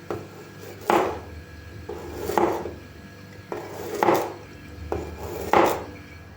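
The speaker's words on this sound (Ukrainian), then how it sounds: "250 г редиски нарізаємо пластинками" A knife slicing radishes into thin rounds on a cutting board, four distinct crisp cuts spaced roughly evenly, close and fairly quiet with no talking.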